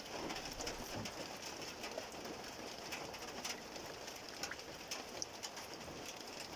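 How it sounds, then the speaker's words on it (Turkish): Steady rain patters across the whole stretch as a dense hiss, with faint bird calls scattered on top. "Şu anda yağmur sesini duyuyorsunuzdur belki."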